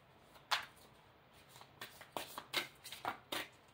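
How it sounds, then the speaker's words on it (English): Tarot cards being shuffled by hand, a run of crisp riffling bursts and soft slaps spaced unevenly over a few seconds, close and clear against a quiet room. "you know I always pre-shuffle"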